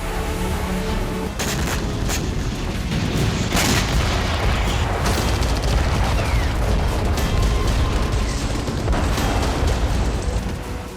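Continuous heavy booms and blasts of artillery fire in the war in Ukraine, dense and loud throughout, with explosions overlapping into a rumbling barrage.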